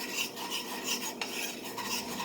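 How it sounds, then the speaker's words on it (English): A utensil stirs flour and oil browning in a skillet, giving a steady scraping, rasping rhythm of repeated strokes, close and moderately loud, with no voices. "all you're doing with the flour and the oil is just browning it"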